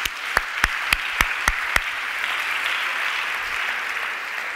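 A church congregation claps together, starting with several sharp, evenly spaced claps that give way to a broad, sustained wash of applause.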